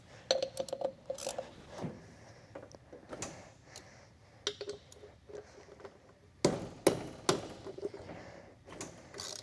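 A hand ratchet works loose the wheel lug nuts on a go-kart fitted with duct tape tires, giving bursts of rapid close clicking and metallic ticks with short pauses and a few louder knocks between them.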